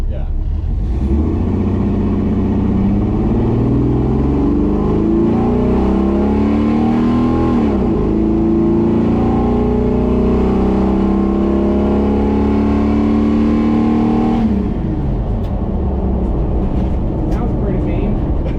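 A Jeep with a freshly installed 4.6 stroker engine revs loud and close, its rough mid-low roar climbing and falling in pitch through several throttle blips before settling to a steady idle rumble.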